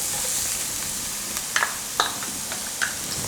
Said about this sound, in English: keep stirring them